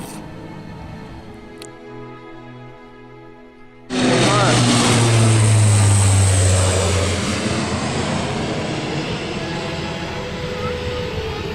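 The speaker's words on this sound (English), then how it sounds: "Yes, this plane has a jet engine on board." A jet-engined plane at the Abbotsford airshow roars in abruptly and loudly, a sustained broadband rush that stays strong then slowly fades as it passes overhead, following a quieter stretch of lower engine hum.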